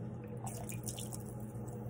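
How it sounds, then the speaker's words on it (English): Chicken being washed in lime water in a bowl, soft close splashes and drips of water over a low steady hum, quiet and irregular with no talk. "I use the lime to wash the chicken and let it sit there in the lime water for a little bit."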